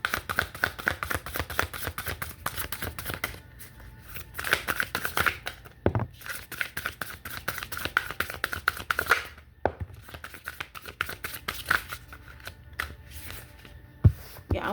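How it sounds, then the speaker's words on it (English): A deck of oracle cards being shuffled by hand, quick soft riffling and slapping bursts that come in uneven clusters with brief gaps and a sharper knock near the end. "I'm getting better with shuffling these cards."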